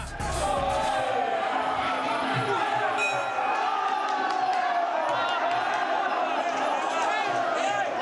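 A dense, roaring crowd cheers and yells without pause at a Muay Thai bout in Thailand, with shouted calls and whoops layered throughout and voices mixed into the din.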